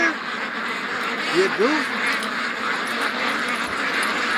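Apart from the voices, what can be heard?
Muscovy ducks quacking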